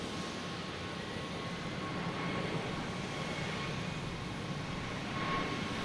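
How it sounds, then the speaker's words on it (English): JetBlue Airbus A320 jet airliner at Boston Logan Airport, a steady broadband engine roar with a faint whine, sustained and fairly distant throughout. "It's JetBlue and A320 heading to DC."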